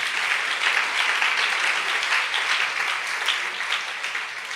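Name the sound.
congregation applauding in church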